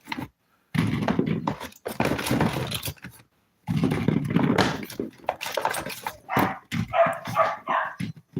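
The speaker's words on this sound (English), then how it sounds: "the neighbor's dog is here" A neighbor's dog barks in a garden in a run of loud, close, repeated bursts. Pauses break up the barking, and it ends with higher, whining yelps.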